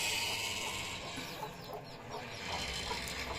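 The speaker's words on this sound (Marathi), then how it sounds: "बघूया कोंबड्या आहेत आतमध्ये" Chickens clucking inside a plastered coop, several soft clucks scattered through a steady background noise.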